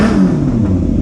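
Yamaha YZF600R Thundercat motorcycle engine running steadily near the mic, a continuous low rumbling drone with a slight rise in revs, loud and alone.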